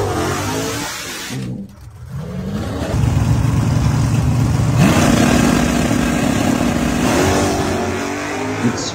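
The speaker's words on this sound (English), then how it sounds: "muscle car race. Charger on deck speed." A Dodge Charger muscle car in a race roars loudly up close, the engine dipping briefly and then climbing through rising revs in steady, powerful steps.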